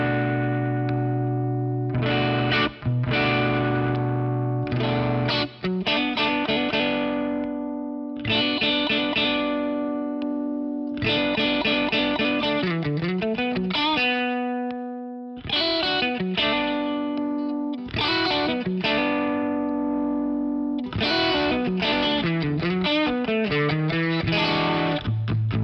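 Instrument run through a PRS compressor pedal at low compression, a series of sustained chords and melodic phrases with bright, slightly driven tone, played alone with brief pauses between passages.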